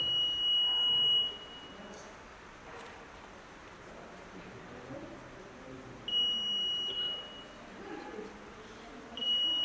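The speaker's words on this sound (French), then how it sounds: "le détecteur de métaux a émis un signal, ce qui signifie qu'il a détecté un objet métallique" A metal detector sweeping close to the ground during demining gives out high, steady electronic tones that recur in three bursts, set against a faint outdoor breeze.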